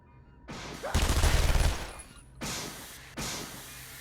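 In Batman: Arkham Asylum, enemies open fire on a boiler after it makes a loud noise, with a dense burst of gunfire followed by two shorter volleys in a reverberant room.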